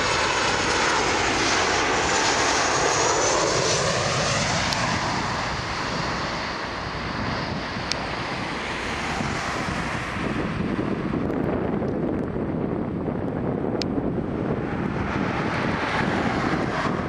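A Boeing 737-800 jet at Toronto Pearson airport gives a loud, sustained engine roar that swells and shifts over many seconds, mixed with wind buffeting the microphone and no talk.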